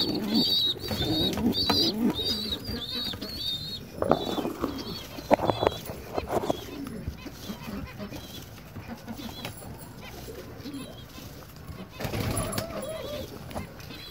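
Soft pigeon coos and bird calls ripple through the scene, with pigeon chicks among them, a voice speaking at moments and scattered clicks and shuffling nearby.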